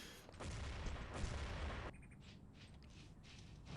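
Grenade blast in a team shooter match, a loud rumbling boom with crackling debris lasting a couple of seconds, then dropping to quieter game ambience with faint distant gunfire.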